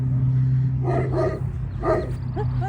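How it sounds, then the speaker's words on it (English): Great Pyrenees dogs letting out a few deep barks close by, three or four quick woofs over a steady low engine hum. "they have 5 beautiful Pyrenees dogs here"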